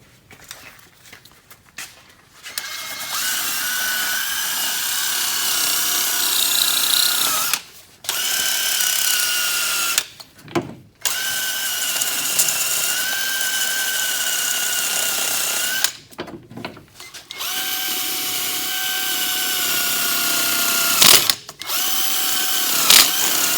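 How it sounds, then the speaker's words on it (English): A wire brush spinning on a power drill scrubs a car's rear knuckle, a steady high whirring grind in several long bursts separated by short pauses, up close and loud. "Always remember when you're using these little wire brush guys"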